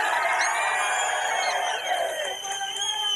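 A large crowd cheers and whoops loudly and continuously at a Bigg Boss Kannada event, with shouting voices mixed through the din.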